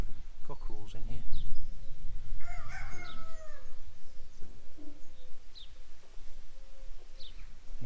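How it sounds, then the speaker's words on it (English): Cockerels crowing at a site on a Galloway tour, a mid-distance crow standing out over outdoor ambience with buzzing insects and people talking nearby. "I'm being warned that there's some cockerels in here."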